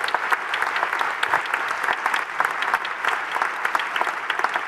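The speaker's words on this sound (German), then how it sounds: "einen großen Applaus für unser Podium." An audience claps for a panel at a conference on digitalization and degrowth, a dense, sustained applause with no speech over it.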